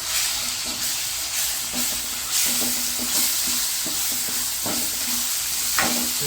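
Grated raw mango stirred into a hot frying pan for mango pickle, a continuous loud sizzle and hiss with scraping strokes of a spoon against the pan.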